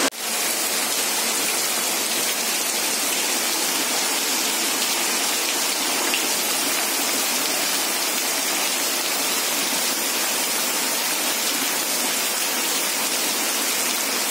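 Heavy monsoon rain pours over a Konkan village, mixed with the rush of a village waterfall: a dense, steady, loud roar of water that continues without a break throughout, with no voices.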